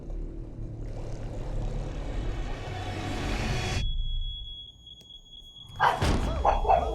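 A steady high smoke alarm beep sounds for a second or so in a horror movie trailer after a rumbling, noisy passage, followed by a burst of thumping noise.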